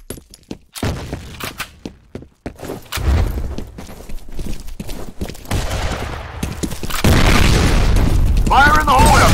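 Explosions and gunfire in the shooter game F.E.A.R. Combat, with sharp sporadic shots and bangs first, then heavy booming blasts and a sustained loud roar at the end, with voices shouting over the action.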